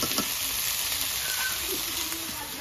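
Meat and potatoes frying in white oil give off a steady, close, hissing sizzle that fills the whole short stretch without a break or any talk.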